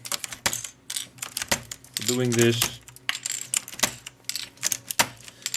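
Rapid clicky keystrokes on a Matias Dell mechanical keyboard with one key missing, fast and uneven, close up, with a brief spoken phrase in the middle.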